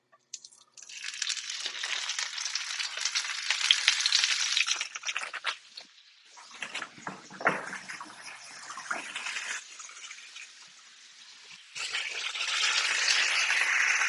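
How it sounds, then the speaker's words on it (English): Sous-vide braised lamb shanks searing in a hot pan, a broad hissing sizzle that swells and fades over about fourteen seconds, with a quieter patch of crackle and clatter in the middle before the steady hiss returns. "And so our braised lamb shanks, we've already cooked them sous vide, and so we're going to basically sear them off."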